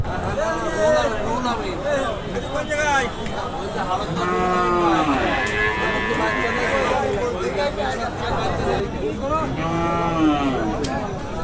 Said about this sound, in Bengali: এটা আসলে কি জাতের গরু সিন্ধি সিন্ধি জাতের গরু